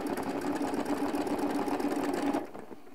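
Sewing machine stitching along a ruler while quilting, a rapid even needle hum and clatter heard up close, stopping abruptly near the end.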